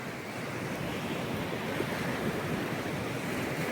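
Sea waves washing onto the shore at Mielno, a steady broadband rush of surf with some wind noise across the microphone, continuous and fairly loud with no voices.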